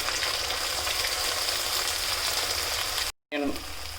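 Onions fry in a pan for Chicken Maharaja, making a steady, even sizzle over low heat that briefly cuts out near the end before resuming.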